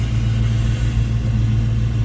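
A 1979 Pontiac Trans Am engine running with a deep, steady rumble, loud and close, holding an even idle throughout with no voices.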